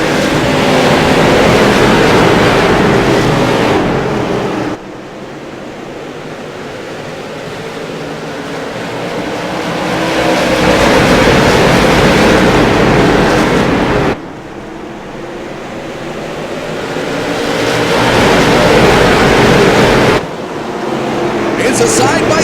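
Late model stock cars race in a CARS eSport Tour event at Concord Speedway, a steady, dense engine roar that swells and fades in long sweeps as the pack passes, with commentators talking over it.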